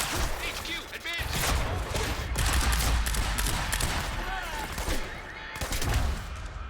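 Bursts of rapid gunfire rattle through a firefight in the video game Quantum Break, loud and close with overlapping volleys and thumps, while a voice speaks over the shooting.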